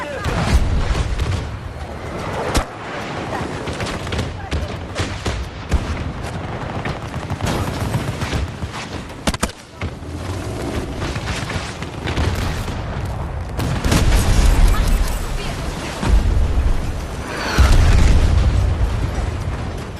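Grenade and explosive blasts in a shooter video game: repeated booms and bursts, several sharp and some rolling, layered over continuous battlefield din and mixed in with talking throughout.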